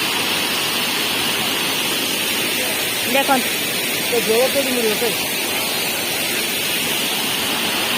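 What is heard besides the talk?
Sanghagara waterfall rushing water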